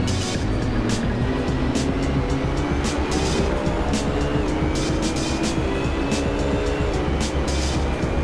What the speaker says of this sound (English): BMW looking better, accelerating out of the corners, but the Nissan GTR picks it up with a high speed advantage